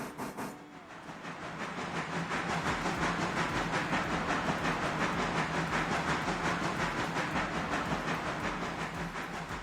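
Steam locomotive in the Railroader train simulator rolls along at about 13 mph, chuffing in a steady, loud rhythmic pulse over continuous hiss and track rumble.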